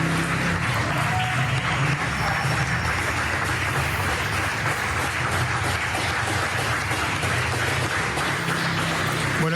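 Applause for health workers in Argentina in March 2020, a steady, dense wash of many distant hands clapping, continuous and even throughout with no talking.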